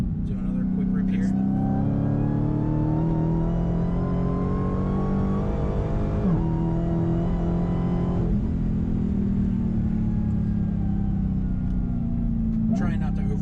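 A 2021 Dodge Challenger Super Stock's engine pulls hard under acceleration, a loud continuous drone rising steadily, with brief dips where the throttle eases, heard from inside the car.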